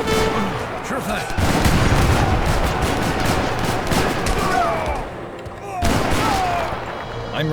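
Cannon fire from an Age of Empires 3 real-time strategy battle: dense, repeated booming volleys and crackling gunfire blend into a continuous loud battle din, with brief voices and game unit responses mixed in.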